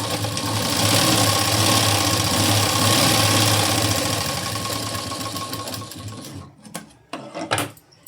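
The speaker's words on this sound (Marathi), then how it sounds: "एक शिलाई दिली लगेचच मी डबल शिलाई देऊन घेते." A sewing machine runs continuously as it double-stitches a blouse seam. The whirring motor hum is loud and close and lasts for several seconds, then slows into a few short bursts and stops.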